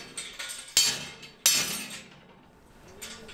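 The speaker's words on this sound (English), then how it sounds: "you would hear hammers and stuff ringing out when, like, hammers hit steel" Recorded hammers striking steel in a castle exhibit, a series of sharp metallic clanks with two loud ringing strikes that decay between softer taps, heard up close.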